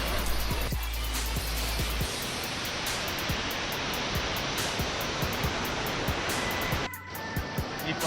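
Waterfalls roar in a continuous dense rush of falling water, loud and steady for several seconds, with no voices over it.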